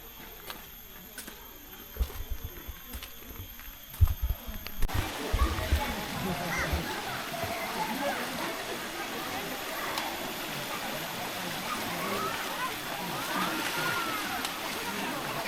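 River water flows steadily at La Hot Spring in Besut, Terengganu, a broad continuous rush close by, with a few louder knocks and splashes early on.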